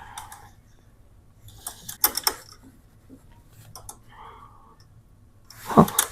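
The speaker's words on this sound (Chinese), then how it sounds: "左右2根排线接好之后，我们把打印头向上扣一下" Print head of a P100/P103 series label printer being pushed up and snapped into place: a few sharp plastic clicks and creaks in otherwise quiet surroundings, with a louder, firm snap near the end.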